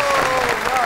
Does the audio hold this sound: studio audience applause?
yes